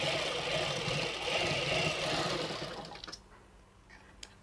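A sewing machine runs steadily, stitching a folded cloth face mask at home, its dense whirring motor close and continuous for about three seconds before stopping and leaving near silence.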